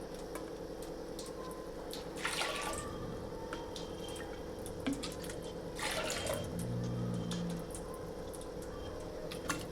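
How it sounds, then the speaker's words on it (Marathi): Water is poured into a bowl of washed moong dal, a faint trickle and splash that swells in two brief bursts over a quiet background hum. "ज्या वाटीने डाळ घेतली त्या वाटीने 4 वाट्याला पाणी टाकणार आहे"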